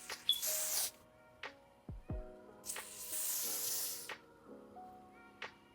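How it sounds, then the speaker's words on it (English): Spray adhesive hisses from an aerosol can onto skin during a wig install, several short bursts and two longer sprays separated by quiet pauses, close and fairly soft, with no talking. "I'm going to use just a little bit of spray adhesive and go along my skin"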